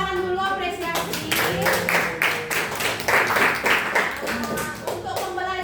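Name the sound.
classroom applause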